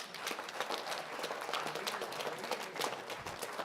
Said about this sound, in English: So a huge round of applause to everyone.